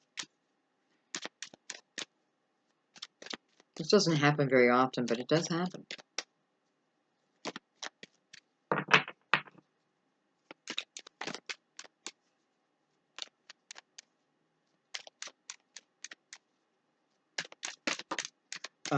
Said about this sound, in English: let me shuffle for a second